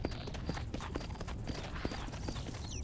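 A brown donkey's hooves patter quickly and evenly in Red Dead Redemption, with a dense run of close, moderately loud footfalls and no talking over them.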